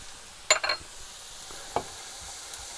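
Flour is stirred gently into a sausage casserole sizzling in the pan, with a few sharp scraping stirs over a faint, steady frying hiss and no voices.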